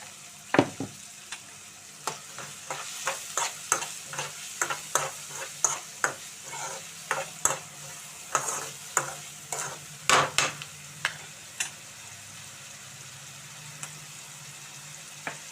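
Chopped onions frying with salt and turmeric in a pan for a fish curry, with repeated sharp scrapes and clinks of a stirring spoon over a soft, steady sizzle.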